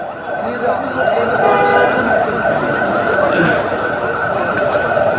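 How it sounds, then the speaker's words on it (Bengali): An air ambulance siren wails as the vehicle leaves Evercare hospital with a police escort in front and behind, a steady wavering tone amid street noise and people's voices. "এয়ার অ্যাম্বুলেন্স বের হচ্ছে, সামনে পিছে পুলিশের প্রোটোকল"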